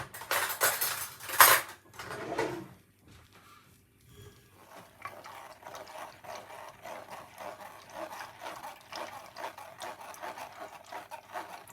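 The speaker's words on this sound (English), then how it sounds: "Run it through your strainer, get it strained." Blended cucumber, lemon and ginger juice is worked through a kitchen strainer. A loud burst of rough scraping and rubbing opens, then settles into a steady, faint scratching that continues to the end.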